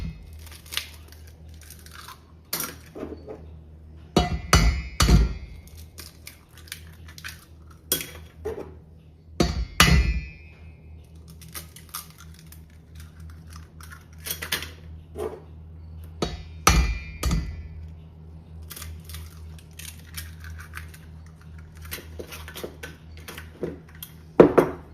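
Eggs cracked against a bowl for a brownie pie batter, several sharp separate taps and knocks spaced irregularly over a quiet room hum, with shell crinkles between them.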